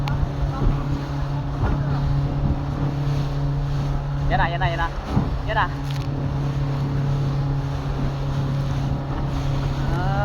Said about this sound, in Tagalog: Bali wala lang ang alon sa speedboat ah.